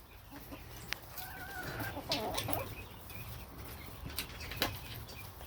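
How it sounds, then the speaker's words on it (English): A backyard flock of about two dozen chickens, including roosters, clucking softly in the background, with occasional wing flaps and small knocks over a faint, steady ambience. "I think we got 23 chickens, which includes roosters."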